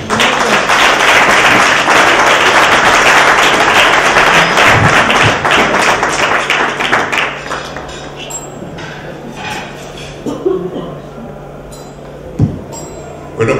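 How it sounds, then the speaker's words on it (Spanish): Audience applause at a town crier's dinner event rings out loud and dense for several seconds, then thins into scattered claps and taps as it fades. "le pido un nuevo aplauso para él, porque se lo merece"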